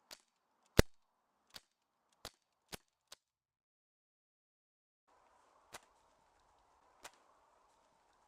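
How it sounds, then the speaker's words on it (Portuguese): Air pistol and Gamo air rifle shots ring out as eight sharp, isolated cracks, spaced unevenly over several seconds in near silence, one louder than the rest. The rifle's shots strike a bottle, and there is no talking. "A pistola acertou alguns tiros na garrafa com o rifle Gamo antes de esvaziá-la"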